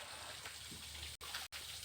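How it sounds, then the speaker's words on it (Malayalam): A village stream overflows its banks, giving a steady, continuous rush of flowing water close by. The sound is broken by two very brief dropouts. "വെള്ളം കവിഞ്ഞ് ഒഴുകുന്ന"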